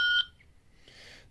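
A short electronic beep from a PAX A920 card terminal touchscreen sounds at the start and cuts off, followed by a faint hiss, in an otherwise quiet setting.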